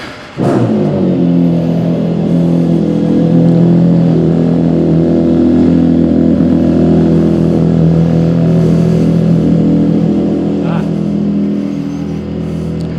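A 2026 Aprilia RSV4 Factory motorcycle engine kicks in after a brief pause and runs loud and close for the rest of the clip, a steady rich harmonic drone that barely wavers.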